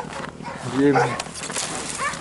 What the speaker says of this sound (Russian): О, собаки мои ее залаяли.